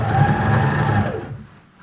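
Sewing machine stitching a seam on scrub trousers, running steadily at close range for over a second and then slowing to a stop, with no talking.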